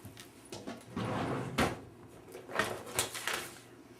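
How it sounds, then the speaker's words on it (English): A drawer is pulled open and rummaged through at a sewing and quilting worktable, giving a few close wooden slides and knocks that come in short bursts with no one talking. "Let me get out of the drawer."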